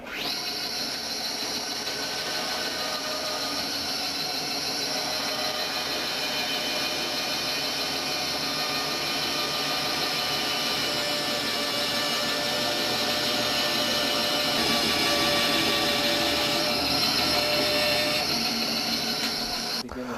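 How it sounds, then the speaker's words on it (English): A power saw cuts through a metal part for a scratch-built homebuilt aircraft, giving a steady, loud, high-pitched whine with ringing tones that runs unbroken for the full twenty seconds, with no talking. "We'll just saw this out and then follow along with the rest."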